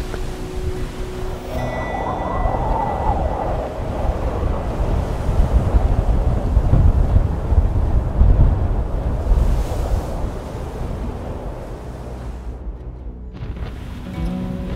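Storm-force wind, gusting to 55 knots, roars steadily over crashing sea waves, a dense, blustery rumble that swells and eases with gusts throughout.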